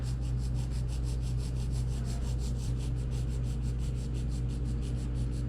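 A pencil shades steadily across paper, a continuous close, soft scratchy rubbing with a faint regular stroke rhythm and no voices.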